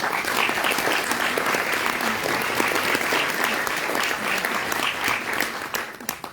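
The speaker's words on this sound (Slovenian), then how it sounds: "Lepo prosim za aplavz." Audience applause at a human rights film award ceremony held during a documentary film festival, steady dense clapping from a large crowd sustained throughout, fading slightly near the end.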